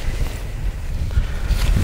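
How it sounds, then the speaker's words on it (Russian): Icy winter wind buffets the microphone in a snowy, frozen outdoor setting, a continuous loud rumbling roar with gusts and no voices. "Вообще ледяной ветер."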